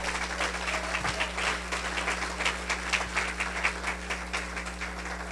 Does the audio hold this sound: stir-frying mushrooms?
no